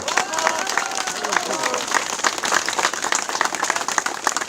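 Audience applauding at an outdoor political rally by the Roman Shukhevych monument in Hukiv village, a steady dense patter of clapping from a crowd that holds throughout, with some voices mixed in.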